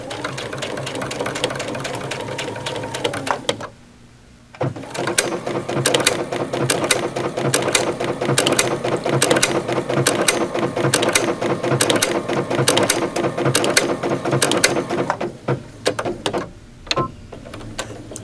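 A sewing machine runs close and loud, stitching fabric backward and then forward to complete a box pattern, a steady rapid mechanical chatter with a brief pause partway and clicking as direction changes.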